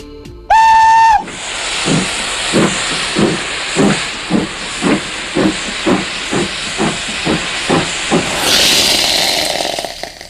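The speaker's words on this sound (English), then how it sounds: "with heat and water combined, steam irons became one of those perfect products" Loud, steady hiss of steam with a rhythmic series of puffs beneath it, a brief whistle-like tone at the start and a brighter burst of hissing near the end.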